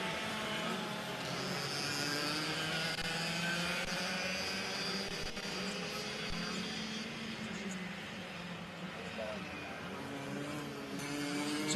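Racing karts circle the Sonoma track in a Micro and Mini ROK race, with a steady, distant buzz of small engines droning on without letting up, their pitch rising and falling slightly as the pack spreads out.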